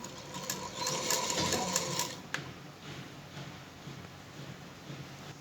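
Sewing machine stitching a sleeve, a quick burst of rapid rhythmic needle chatter for about two seconds that stops abruptly, leaving quiet room noise.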